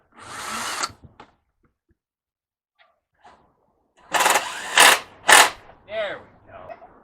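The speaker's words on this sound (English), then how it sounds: "You have to drill it. Drill it good." A power drill bores a hole in a screen door in a few loud, close whirring bursts separated by quiet pauses, with a short gap of near silence in the middle.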